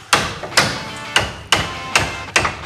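A heavy sledgehammer striking, six sharp loud blows at an even, unhurried pace, each ringing briefly before the next.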